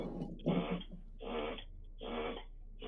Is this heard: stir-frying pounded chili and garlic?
no